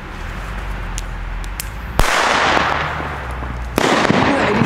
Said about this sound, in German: Und ich bin sehr, sehr gespannt auf diese kleinen Knaller.